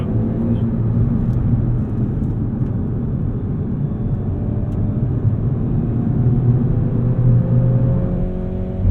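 Loud, steady tire and road roar fills the cabin of a 2022 Hyundai Veloster N hot hatch, a constant low rumble with a faint engine whine underneath and no speech.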